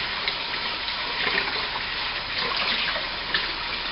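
Rice being washed by hand in a bowl of water, fingers stirring and swishing the grains against the bottom, giving a steady close watery sloshing with small splashy swells and no talking.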